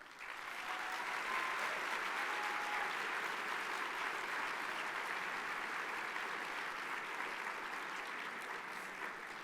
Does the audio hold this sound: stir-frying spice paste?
no